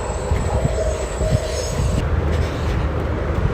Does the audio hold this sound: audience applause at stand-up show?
no